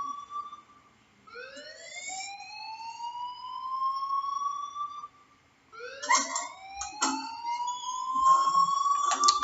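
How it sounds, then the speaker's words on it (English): An alarm in the video game Life is Strange wails in long rising siren sweeps, one slow climbing tone followed by a brief pause and then a second sweep with some clatter over it. "please turn off that alarm since that's your job"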